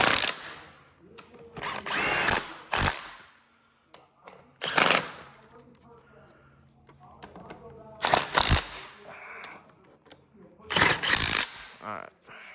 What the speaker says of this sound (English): Always keep low torque on your impacts, and finish the rest with a torque wrench.